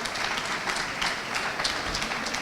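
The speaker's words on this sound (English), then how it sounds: "A round of applause for them." Audience applause at a university inaugural lecture honouring the country's first female professor of taxation; steady dense clapping from a crowd, sustained evenly throughout with no voices.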